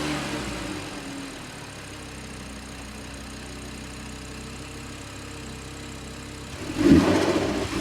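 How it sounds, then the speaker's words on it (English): An Audi RS3 8V fitted with a ram air intake idles with a low steady hum, then near the end gives a sudden louder rev burst, with no one talking. "so let's turn the car on and get some sound clips."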